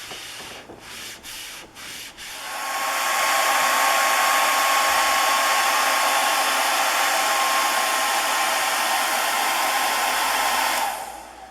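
An electric blower drying and warming the rooftop of an Aliner camper before new weatherstrip goes on: after a few clicks and knocks, a loud, steady, close whooshing roar runs for about nine seconds, then cuts off.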